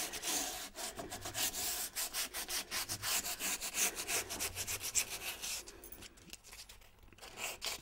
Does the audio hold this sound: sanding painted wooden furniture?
yes